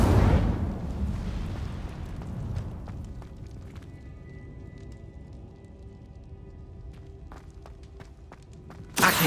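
A fire spell cast in Hogwarts Legacy bursts out as a loud whooshing, rumbling blast at the start and then dies into a low roar with faint crackles, with another sharp burst right at the end.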